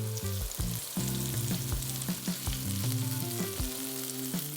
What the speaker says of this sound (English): searing them off creates that little crust that just tastes so good